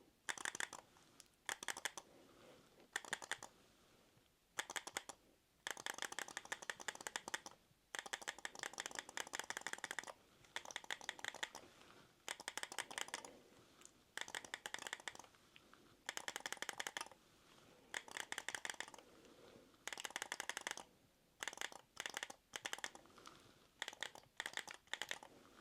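Game controller buttons and bumpers are tapped and clicked up close in quick bursts of crisp clicks, broken by short pauses, with no voices.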